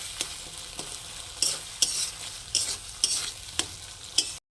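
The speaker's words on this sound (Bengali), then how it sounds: "দিয়ে ভালো করে আমি কষিয়ে নেব" Rui fish masala with sugar and yogurt stir-fried in a pan: a soft steady sizzle broken by about eight sharp spatula scrapes and knocks at uneven intervals, with no voices.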